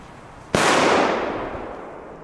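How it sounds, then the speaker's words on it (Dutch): A single Megatresk firecracker, sold as one of Belgium's loudest, goes off with a sharp, very loud bang that rings and echoes away over about a second and a half outdoors, with no talking. "de Megatresk zijn dus absoluut de hardste knallers van België dit jaar"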